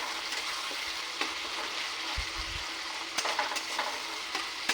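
Onions frying in a pan with steady broadband sizzle, brief stirring scrapes and a couple of soft low thumps from the spoon, close and continuous with no talking.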